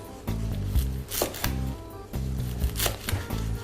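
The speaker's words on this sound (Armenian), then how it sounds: "Կտրատում ենք կանաչիները" A knife chops fresh green herbs on a board for a sauce, a quick run of close, rhythmic thuds in short bursts with brief pauses between them.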